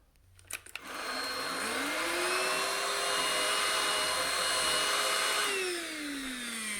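An Onson D18e cordless stick vacuum whirs up to a high, steady motor whine, holds it close and loud for several seconds, then winds down with a falling pitch.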